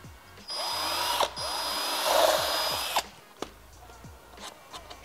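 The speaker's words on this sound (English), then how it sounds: "Grab your drill." A power drill bores a mounting hole for a front splitter on a Mk5 Toyota Supra, a loud high whine lasting about two and a half seconds that stops abruptly, followed by light clicks and handling noises.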